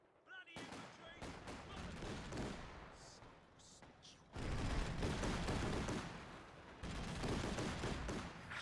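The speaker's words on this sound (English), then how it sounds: "Machine gun shooting at us." Machine gun fire in Company of Heroes 2, long loud bursts of rapid automatic shots broken by short pauses, mixed with battlefield rumble and distant booms.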